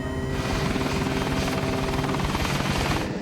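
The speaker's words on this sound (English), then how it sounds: "As the plane approaches the runway, the nose is pointing dangerously low and the left wing is dropping." A cargo plane on approach to the runway in a dramatized air disaster scene, a loud, steady engine roar and droning hum that fills the entire stretch without any let-up.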